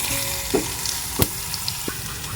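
Snacks dropped into a hot tempering of mustard seeds and curry leaves, a soft steady sizzle with a few sharp clatters and pops as the pieces go in, close by and without speech.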